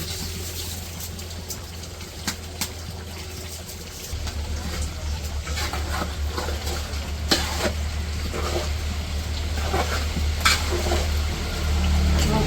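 Washed rice tipped into a pot of simmering beef for village-style beef biryani, then stirred through, giving a steady close sizzle with scraping stirs and a few sharp knocks, the frying growing louder partway through.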